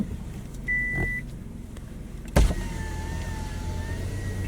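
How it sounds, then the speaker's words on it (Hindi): A car idles at a cremation ground at night, a short electronic tone sounding early on, then a sharp clunk followed by steadier sustained tones over the engine hum, close and moderately loud. "थोड़ी गाड़ी पीछे लेता हूँ।"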